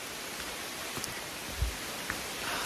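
Steady rain falling in the Maine woods, a dense even hiss of drops with a few louder taps, constant and close, no voices.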